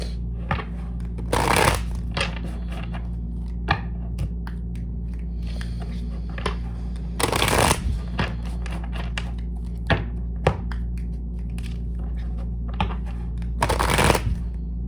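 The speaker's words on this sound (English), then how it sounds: "I heard 5 shuffles, so we'll do 3 more." Tarot cards are riffle-shuffled in several loud, crisp bursts, separated by softer taps and handling of the deck close up.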